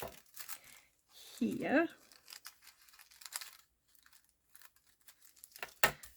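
Scissors snip through paper, a short crisp crunch among rustling and handling noises, with a person speaking intermittently close by.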